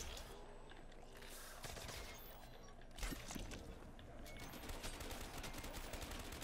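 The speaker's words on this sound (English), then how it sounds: "that fucking machine gun you have is beautiful" Machine gun fire in Black Ops III Zombies, a steady stream of rapid shots playing fairly quietly and continuously, with a few sharper bursts and some muffled background game noise.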